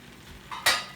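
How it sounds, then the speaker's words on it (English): Butter melts and browns in a pan with a soft, close sizzle that swells suddenly near the end of a brief moment and carries on steadily. "So while that's melting down and gonna brown,"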